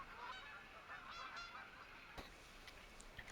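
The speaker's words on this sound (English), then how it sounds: "Had some geese take off too." Wild geese honking out in open country, several distant calls clustered early on, then quieter, with a couple of sharp knocks later against steady outdoor hiss.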